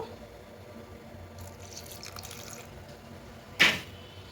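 Water splashes briefly into a bowl of broken cashews, raisins and dried red chillies, a short pour near the end over a quiet kitchen background.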